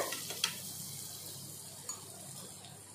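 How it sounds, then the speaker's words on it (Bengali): Butter sizzling on a hot tawa, a soft continuous frying hiss with a couple of faint utensil taps near the start, fairly quiet and without voices. "একটা তাওয়ার মধ্যে বাটারটা দেওয়া হয়ে গেছে"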